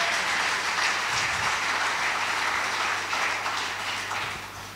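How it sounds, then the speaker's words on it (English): A church congregation claps in praise during a sermon, a loud, dense and steady wash of hands that fades slightly toward the end, with a low hum beneath. "Let's give Jesus a clap of hands."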